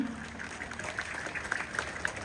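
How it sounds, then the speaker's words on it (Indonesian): Wedding reception guests at a tongkonan in Toraja applauding the bride and groom, a steady patter of moderately distant clapping without voices. "bolehkah saya minta tepuk tangan yang paling meriah dari kita semua untuk kedua mempelai kita?"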